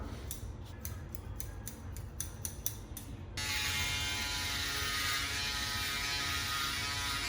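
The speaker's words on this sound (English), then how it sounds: "This is the Gamma shaver." A Gamma electric shaver trims hair: first a series of quick rhythmic clipping snips, then the motor settles into a steady close buzz with a faint underlying hum, and nobody speaks.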